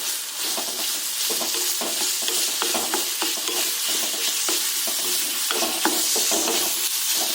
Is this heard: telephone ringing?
no